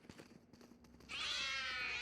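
A cat meow from a cat spray in the video game Valorant rings out clearly in the second half, following a low, quiet stretch of muffled game sounds.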